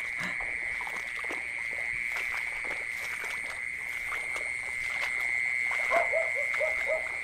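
Frogs croak in repeated short calls at night during a frog hunt, with a steady insect-like drone behind them and a faster run of croaks near the end, no voices.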